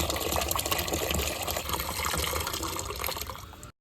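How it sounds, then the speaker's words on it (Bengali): Water pours steadily into a container in a bathroom, making a near, continuous gushing splash that lasts the whole stretch and then cuts off abruptly. "সাথে আমার বাথরুমটাতেও জল ভরে রাখলাম।"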